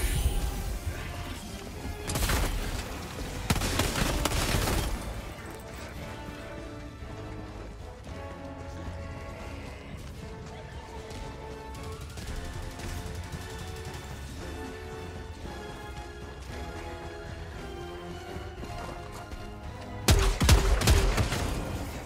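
Gunfire and explosive crashes from the video game Helldivers 2 in a high-difficulty fight, heavy bursts near the start and again at the end, with busy game music and effects filling the middle.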